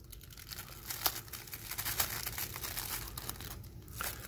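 Tape folded over plastic sheeting for a paint booth makes a continuous close crinkling and crackling, with a few sharper rustles and snaps throughout and no talk.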